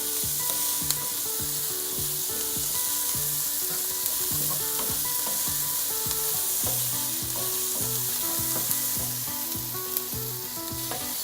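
Sliced red and yellow capsicum sizzles steadily in a hot pan, with repeated scraping stirs and soft clinks of the utensil against the pan throughout.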